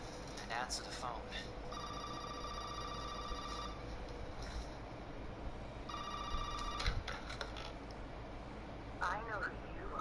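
A telephone rings in a PS4 video game, two long electronic trilling bursts a few seconds apart over a low droning game backdrop, with faint chirping effects between them.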